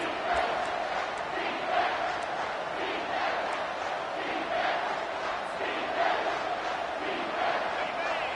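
A stadium crowd at a college football game between Ohio State and Texas, a sustained loud roar of cheering and chanting that swells rhythmically on a key third down, heard at a distance with no talk over it.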